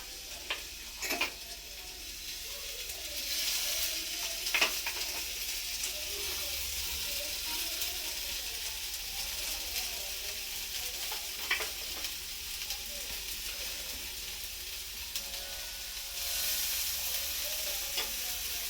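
Paneer kebabs coated in butter fry in a frying pan, giving a steady, soft sizzle that runs throughout with a few faint clicks and taps over it.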